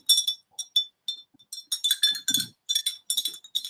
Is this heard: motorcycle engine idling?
no